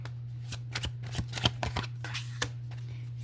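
Tarot cards shuffled by hand close up, giving a quick series of irregular riffling snaps and slides over a steady low electrical hum, with no voices.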